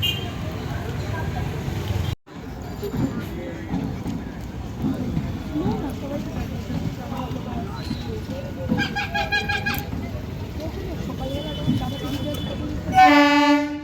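A slow train rumbles past amid crowd chatter, with loud horn toots near the end; people talk throughout.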